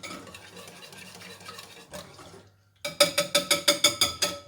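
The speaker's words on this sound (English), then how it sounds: "And we mix this all nicely together." Pancake batter is mixed in a bowl: a soft scraping swirl first, a brief lull, then about eight quick, bright rhythmic clinks of a whisk or spoon against the bowl.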